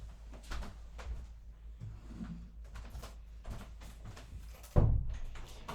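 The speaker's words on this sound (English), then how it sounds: "I'm going to go close a door." A door is shut indoors amid faint shuffling and handling noises, ending in a single solid thud near the close.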